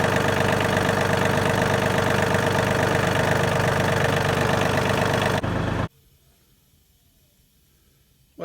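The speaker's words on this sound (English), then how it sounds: "What I did is just started up the tractor and inched the forward or reverse lever forward." A John Deere 4410 tractor engine idling steadily and loud at close range for about five seconds, then cutting off abruptly into near silence.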